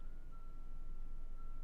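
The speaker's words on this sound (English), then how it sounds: "there's an ice cream truck" High-pitched reversing beeps from an ice cream truck outside, a steady repeating tone that sits faint and distant over a low rumble of background noise.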